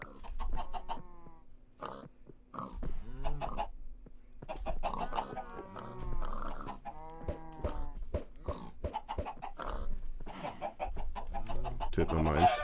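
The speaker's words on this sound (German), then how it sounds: "Was sind ihr für komische Hühner?" Chickens cluck in the video game Minecraft in repeated short, harmonic bursts, clear and close. Someone talks faintly between them.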